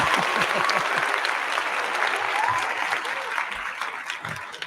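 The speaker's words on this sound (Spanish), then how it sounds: "darte las gracias y darte un fuerte aplauso" Audience applause at a Spanish-language talk on the global resource struggle, a dense wash of clapping that stays loud and steady, with faint voices underneath.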